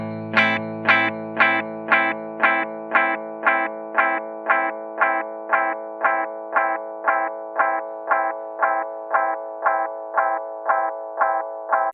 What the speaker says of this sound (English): when you have it in infinity mode, you can really hear the repeats degrade